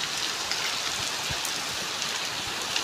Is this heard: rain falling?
yes